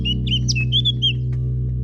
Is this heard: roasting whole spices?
no